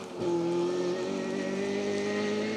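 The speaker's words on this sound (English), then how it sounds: "Some brave late braking in that Escort." Ford Escort rally car braking late on a gravel stage, flat out into a 90-degree left: a distant engine note holding high, dipping briefly as it brakes, then steady, with no voices.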